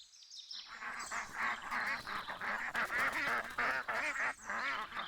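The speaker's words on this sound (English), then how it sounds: "Duck." A farm duck quacks in a rapid run of loud, nasal calls, repeated bursts close up with no talking.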